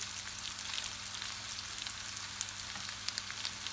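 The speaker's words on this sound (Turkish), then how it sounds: "Yoğurtla da karıştırıyorum güzelce." Curd cheese frying in a pan with a spoonful of yogurt mixed in gives a steady, soft sizzle, with faint scattered scrapes from the stirring and no voices.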